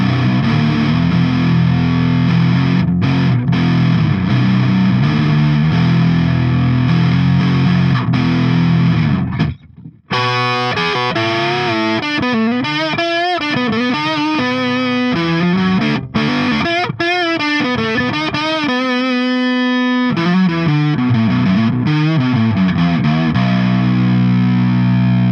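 An Ibanez Gio budget 7-string electric guitar on both humbuckers plays loud, heavily distorted sustained chords. After a brief break it moves into choppier riffs and held notes, with no talking.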